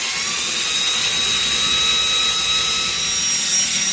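A power drill spinning 120-grit sandpaper lightly against wood, a loud continuous high whine with an even rushing hiss, steady throughout with no talk.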